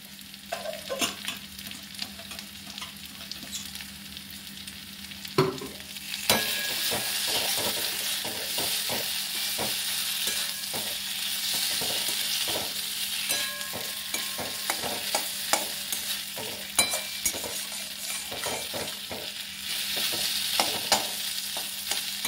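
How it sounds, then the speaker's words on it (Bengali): A Bengali fish head and rice curry sautés in a pan with a constant close sizzle and frequent scraping, clinking spoon strokes, which grow busier after a sharp knock early on; no voices. "খুব ভালো করে এটা কষিয়ে নেবে, যাতে তাড়াতাড়ি বেশি জল না দিতে হয়"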